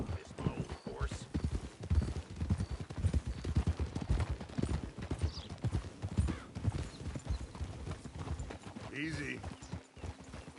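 Horse hooves clip-clopping steadily in Red Dead Redemption II, a continuous rhythmic gait with a brief whinny and scattered game noises, moderately quiet.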